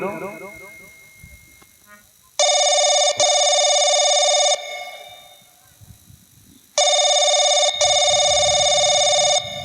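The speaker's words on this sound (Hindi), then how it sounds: "नंबर मिलाओ। नंबर इसी में फीड है यार।" A telephone number is dialed and the line rings: two long, loud, steady electronic ringing tones, each lasting about two to three seconds, are separated by quieter stretches with faint voices and background sounds.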